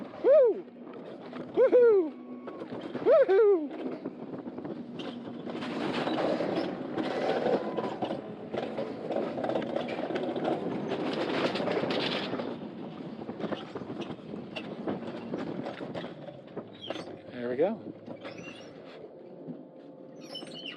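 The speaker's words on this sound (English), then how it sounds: "fantastic ride on the Alpine coaster" An Alpine coaster at Glenwood Caverns Adventure Park runs along its track, a steady rumbling roar with gusts of wind noise, opening with a few loud whooping shouts from riders and ending with brief vocal sounds.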